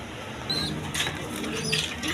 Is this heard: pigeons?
yes